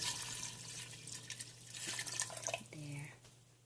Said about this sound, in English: So I'm adding 2 cups of water.